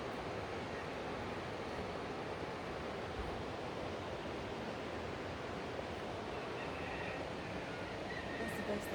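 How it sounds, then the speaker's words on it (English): A river flows in Vilcabamba, Ecuador, a steady broadband rushing roar that holds unchanged throughout, heard alone without talk. "you can probably hear the sound of the river here better."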